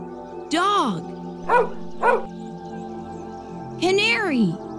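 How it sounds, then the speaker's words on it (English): A dog barks and whines in a string of close calls: a long falling yelp, two short sharp barks, then another drawn-out whimpering howl. "Dog."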